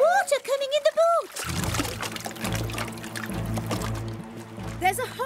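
Water pours steadily into a small cartoon boat after it hits a rock, a continuous gushing splash under excited cartoon voices and background music.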